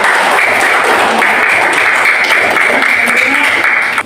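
Steady, dense applause from a classroom group fills the whole stretch, many hands clapping loudly at once without pause.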